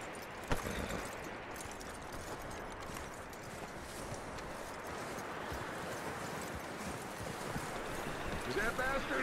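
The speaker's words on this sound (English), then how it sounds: "That looks like a decent horse." Horse hooves clip-clop steadily on the ground in the video game Red Dead Redemption II, a continuous rhythmic trot mixed with game ambience throughout.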